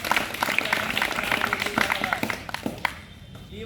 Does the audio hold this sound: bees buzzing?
no